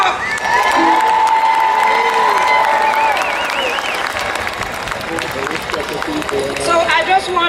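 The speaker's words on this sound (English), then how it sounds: "Give him a big clap up." A crowd claps and cheers loudly for Freddie McGregor, with whistles and shouts rising over sustained applause.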